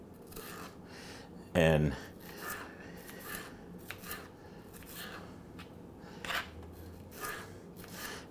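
Knife slicing Pacific cod into thin pieces on a cutting surface, giving quiet scraping and rubbing strokes with a couple of sharper taps, while a person talks.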